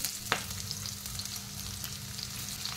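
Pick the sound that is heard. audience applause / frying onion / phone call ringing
frying onion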